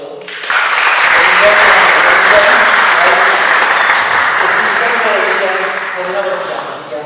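Audience applause at an anniversary honour night for a film workshop, a dense, loud, steady clapping that starts sharply and carries on for several seconds before easing slightly.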